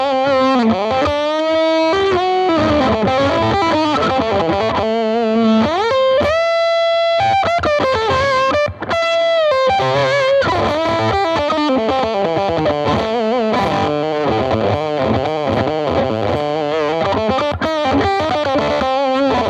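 Electric guitar through a Fender The Pelt silicon fuzz pedal with bloom turned up, glitchy, fuzzy distortion playing a stuttering lead line with pitch jumps and choppy, sputtering breaks.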